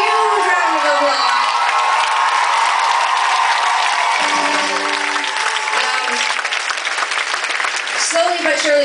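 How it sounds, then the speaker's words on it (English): A concert audience at a show bursts into loud applause and cheering, with whoops and shouts over dense clapping that holds steady before easing slightly near the end. "Please give him a huge round of applause."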